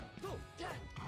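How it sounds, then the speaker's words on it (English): A forward smash landing in Super Smash Bros, heard as a short crunchy impact followed by a couple more brief hits in quick succession, faint and mixed with game noise and vocal sounds. "gets hit by LuigiWC's forward smash too"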